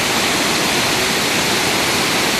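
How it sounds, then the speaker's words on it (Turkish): Glendalough waterfall in Wicklow, Ireland, rushing loudly and steadily in a broad unbroken roar, close by with no voices. "şarıl şarıl akıyor şelale"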